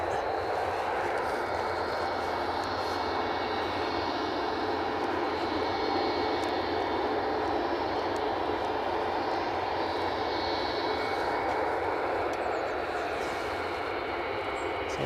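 A Ryanair Boeing 737 Max 8 jet at Edinburgh Airport gives off a steady, loud engine roar that holds at an even level throughout without pause.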